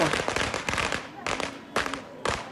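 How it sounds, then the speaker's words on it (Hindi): Firecrackers and fireworks set off in Nashik to celebrate Eknath Shinde's faction, heard as repeated sharp crackling bursts with a steady rattling background and a few louder bangs. "नासिक में वहाँ पर एकनाथ शिंदे गुट की तरफ से आतिशबाजी की जा रही है।"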